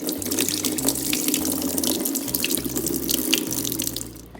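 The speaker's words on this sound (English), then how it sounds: "And just pour that excess water off." Rinse water from a batch of seed sprouts pours off into a sink, a steady splashing stream with a low running-tap rumble underneath, close by and uninterrupted.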